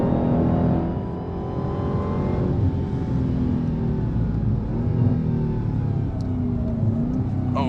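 A heavy 2023 Dodge Challenger Black Ghost V8 drones steadily on a race track, a continuous loud engine note with small shifts in pitch as it pulls through a corner, no talking.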